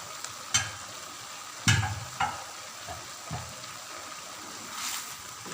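Capcay vegetables and sliced omelette being stirred in a pan, with a few soft scraping and clacking strokes of a utensil over a low, steady sizzle of frying food.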